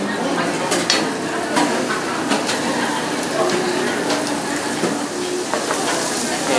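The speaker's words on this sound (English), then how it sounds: "And in a hot pan, add a little bit of blended oil." Blended canola and olive oil, 80% canola and 20% olive, sizzling loudly and steadily in a hot pan, with a dense crackling hiss and occasional clinks of cookware in a New Orleans-style kitchen.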